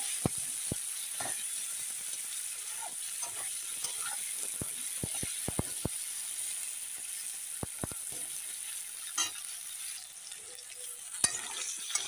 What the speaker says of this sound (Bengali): এখন বেগুন দিয়ে একটু নাড়াচাড়া করে নিচ্ছি। এখন একটু ভেজে নেব।